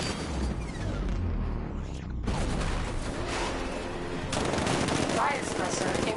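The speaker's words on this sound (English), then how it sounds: "60mm cannon operational." A 60mm tank cannon fires in a Batman video game, heavy booming gunfire with sharp bursts and rumbling impacts in a continuous barrage of combat noise.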